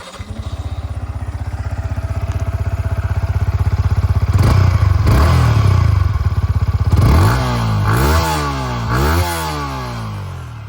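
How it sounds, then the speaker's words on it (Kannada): A Yamaha MT-15 V2 motorcycle idles with a rapid exhaust putter, then gets blipped and revved repeatedly, the engine note sweeping up and dropping back several times, close and loud. "ಬನ್ನಿ ಇದ್ರದ್ದು ಎಕ್ಸಾಸ್ಟ್ ನೋಟ್ ಕೇಳೋಣ ಯಾವ ಥರ ಬರುತ್ತಂತ"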